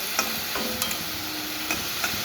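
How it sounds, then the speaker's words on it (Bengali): A little water goes into a pan of sizzling bok fish jhal curry, producing a steady, close frying hiss broken by soft stirring knocks and scrapes. "আর সামান্য একটুখানি জল দিচ্ছি"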